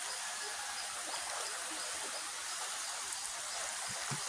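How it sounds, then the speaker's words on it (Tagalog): Water flowing steadily from a natural spring, a continuous soft rushing and trickling like a small stream, moderately close with no talk over it. "Yan, bukal. Spring, spring. Diyan nagmumula ang tubig."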